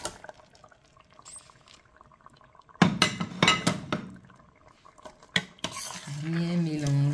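Washed rice for jollof is tipped into the sauce in a pot, making a cluster of rattling, clinking pours and scrapes. A voice hums or speaks faintly at the very end.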